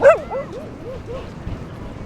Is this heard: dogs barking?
yes